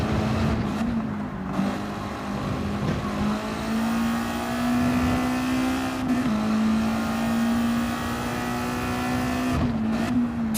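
A four-cylinder race car engine in Gran Turismo 7 drones loudly and continuously, pitch rising and dipping slightly with throttle, with brief gear-shift dips along the way.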